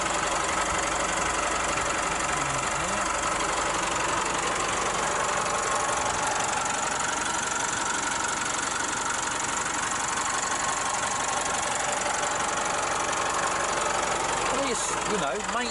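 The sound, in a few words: Isuzu D-Max 2.5 litre twin turbo diesel engine idling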